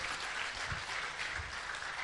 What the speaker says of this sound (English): A round of applause for Director General